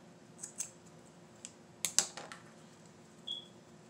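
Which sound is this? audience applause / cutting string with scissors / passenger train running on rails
cutting string with scissors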